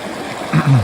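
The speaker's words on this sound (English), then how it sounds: "This is the beautiful stream we get to get water." Mountain stream flowing near Mt Whitney on the Pacific Crest Trail, a close, loud continuous rush of water with gurgling swells toward the end, no talking.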